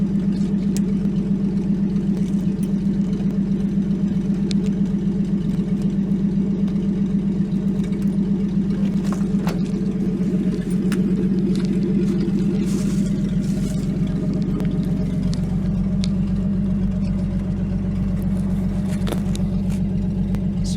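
A 1949 Chrysler 251 engine running after 18 months idle: a loud, steady, low idling rumble that holds evenly throughout, with slight wavering and no voices.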